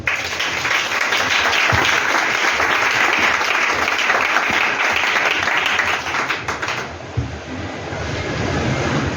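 A church congregation applauds loudly and continuously at an annual thanksgiving service, a dense roar of many hands clapping that eases slightly near the end before swelling again.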